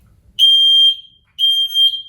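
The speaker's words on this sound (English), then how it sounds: "the fire service will fit these smoke alarms free of charge" Two loud, piercing electronic beeps from a fire-service smoke alarm being tested, each tone held for about half a second with a short gap between, alone in an otherwise quiet room.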